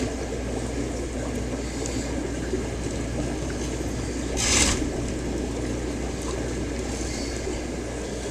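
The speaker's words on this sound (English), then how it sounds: "getting some gravel vac action going" Aquarium gravel vacuum siphoning water during a roughly 50% tank water change, a steady continuous rushing, gurgling flow throughout, with a brief louder hiss near the middle.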